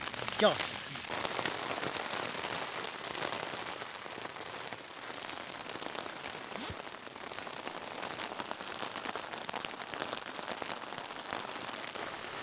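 Heavy rain drums steadily on a tent during a wild camping trip in strong winds, a dense close hiss of drops with sharper individual hits, continuing without pause.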